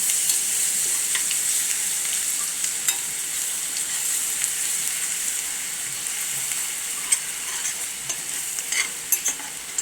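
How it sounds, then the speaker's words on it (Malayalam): Ingredients for an anchovy pickle fry in oil, producing a steady bright sizzle with faint crackles and occasional stirring clicks, close by and without speech. "ഇനി നമുക്കതിനെ ഒന്ന് മൂപ്പിച്ചെടുക്കാം. ഇതേ എണ്ണയിൽ തന്നെ മതി."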